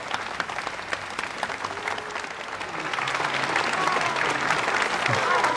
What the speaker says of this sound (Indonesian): Para peserta lain pun memberikan tepuk tangan.